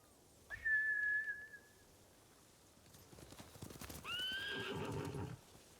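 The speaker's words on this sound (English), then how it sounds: "Bastards scared off the horses." Horses in the video game Ghost of Tsushima neigh twice, a sharp whinny early and another later, with quick hoof clip-clops galloping between and under the second call.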